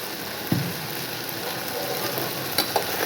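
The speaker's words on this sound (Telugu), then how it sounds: "ఇవన్నీ కూడా పచ్చివాసన పోయిన వరకు వేగాలి." Garlic, tomato and onions fry in a pan for an Andhra-style tomato chutney, giving a steady broadband sizzle with a few soft stirring knocks near the start and end.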